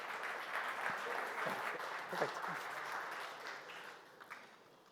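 An audience at a technical talk on functional safety for humanoid robots claps to welcome the speaker to the stage, quiet and fairly distant, fading toward the end, with a brief word spoken over it.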